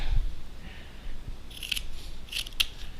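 Scissors snip excess fabric off the corner of a sewing lining, giving several crisp, close cuts in quick pairs near the end. Before them come quieter handling rustles and soft bumps.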